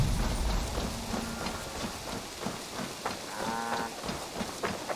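Cattle in Assassin's Creed Valhalla moo in a low, drawn-out call over a steady rainy hiss, with a second lowing sound rising near the end; no one speaks.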